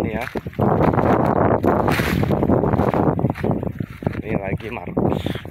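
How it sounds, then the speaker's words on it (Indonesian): Strong wind gusts across a dry-season fruit orchard with banana trees, roaring and buffeting the microphone in a loud, rough, continuous rush while someone talks over it. "Angin sangat kencang di sini ya."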